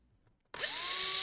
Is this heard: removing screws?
yes